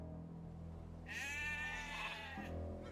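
A single sheep bleats for about a second and a half in the video game Age of Empires II, over a steady low hum, a clean, synthetic-sounding call.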